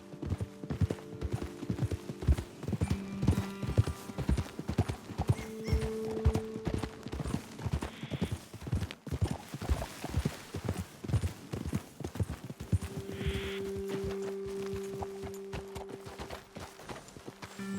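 Horses clip-clopping along a trail in the video game Red Dead Redemption 2, rhythmic hoofbeats at a walking pace with an occasional whinny, close and clear throughout.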